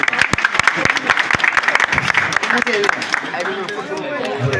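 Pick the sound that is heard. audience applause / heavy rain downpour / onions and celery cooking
audience applause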